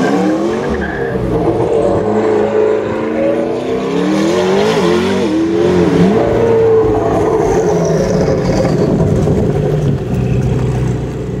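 A McLaren GT supercar's 4-litre twin-turbo V8 roars loudly and continuously, rising and falling in pitch as it accelerates, with tire noise mixed in.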